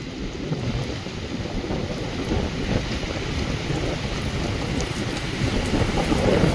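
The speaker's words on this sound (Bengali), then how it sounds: "আজকে রাতে থেকে ভীষণ বৃষ্টি শুরু হয়েছে।" Heavy rain pours down steadily over open fields, a dense broadband hiss that swells slightly toward the end, with no voices.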